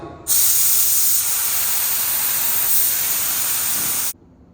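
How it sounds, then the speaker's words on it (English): A spray gun lays down Tamco HP 772 black epoxy primer in one loud, steady hiss lasting about four seconds, starting abruptly and cutting off cleanly, with no talk. "So now we're getting ready to spray the Tamco HP 772 epoxy, 772 black epoxy."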